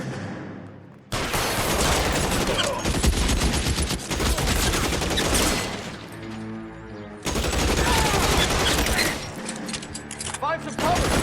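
Heavy gunfire in the L.A. Noire video game, a dense fusillade of rapid shots that runs almost continuously with brief lulls. Loud and close, with game voices and dialogue mixed in.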